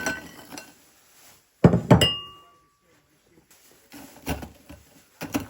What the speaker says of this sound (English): what I did was crush up 150 grams of biscoff biscuits